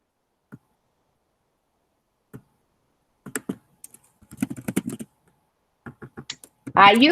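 Scattered keystrokes on a computer keyboard while someone posts a link in a chat, coming first as isolated clicks and then as quicker bursts of typing, close and fairly quiet, with a voice starting at the end.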